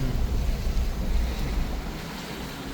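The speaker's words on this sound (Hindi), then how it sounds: "पानी तो कोसी में भी बड़ा है।" Swollen Kosi river water rushes steadily near Jim Corbett, a loud continuous roar with broadband wash and wind buffeting, no voices.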